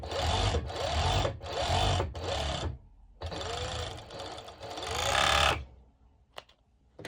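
A sewing machine stitching fabric for a twisted-knot halter-neck crop top, running in several rapid mechanical bursts separated by short pauses, close and clear with no voices.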